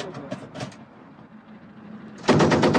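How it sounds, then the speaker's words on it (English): A 40mm cannon on an amphibious armored personnel carrier fires short rapid bursts, a few quick thuds at the start, then a louder sharp run of shots near the end, with a low rumble between. "We're going to get a quick demonstration of the 40mm cannon."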